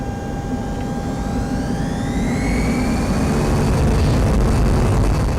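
Airliner taking off in a flight simulator, a loud steady engine roar with rising whining turbine tones as power builds, no talking.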